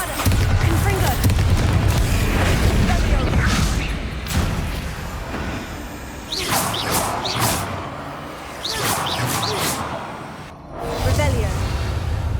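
Bombarda and Confringo spells in Hogwarts Legacy blast out as a run of loud booms and whooshing bursts, spaced a second or two apart. A voice calls out between the explosions.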